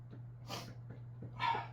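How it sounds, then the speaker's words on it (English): A person sneezes once, a sharp burst preceded by a few short sniffs and breaths, close to the microphone over a steady low hum. "Sneeze break."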